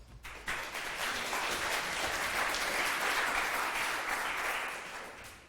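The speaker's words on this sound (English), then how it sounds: "I would like to give him a real warm applause." A conference audience applauds a speaker at a programming event, steady full clapping from many hands building quickly and sustained for several seconds before tapering off at the end.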